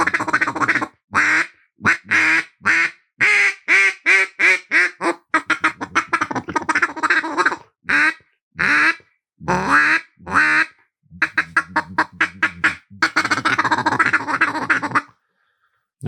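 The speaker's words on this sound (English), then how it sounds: "Duck call." Hand-blown duck call played by a national champion turkey caller, giving long runs of rapid, loud quacks in rhythmic bursts with brief pauses between series, close and with no talk over them.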